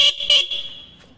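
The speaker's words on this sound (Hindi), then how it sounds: "आवाज़ सुना कि मेरा हॉर्न जो ख़राब हो चुकी है" Faulty stock horn on a Honda Dio scooter sounds two short, thin, weak honks up close, followed by a fading lingering tone.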